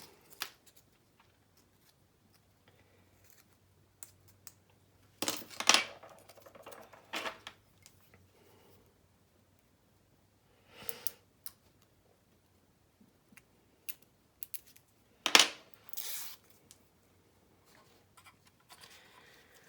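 Scissors cut a long piece of Dymo tape in a quiet room, giving a few sparse, crisp snips and rustles separated by long silent gaps.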